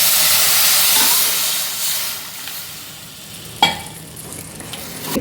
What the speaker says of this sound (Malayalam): ഈ സമയത്ത് നമുക്ക് വെള്ളം ചേർക്കാം